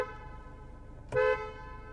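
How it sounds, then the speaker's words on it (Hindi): A Kia Seltos HTK diesel automatic sounds its horn in one short, loud honk over a steady low idle hum, a brief sharp blast near the end. "एंड अब चेक करते हैं सेल्टोस के हॉर्न की साउंड।"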